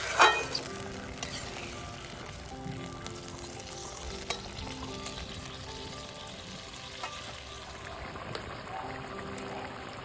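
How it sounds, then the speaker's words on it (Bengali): Boiled peas fry in a pan over a wood-fired clay stove, giving a continuous soft sizzle and crackle with occasional stirring scrapes, steady and fairly close with no talk. "তো এবার মটরটাও দিয়ে দেবো দিয়ে একটুখানি কষা নেবো"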